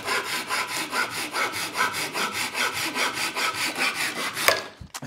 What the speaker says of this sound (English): I'm just going to chop it straight in half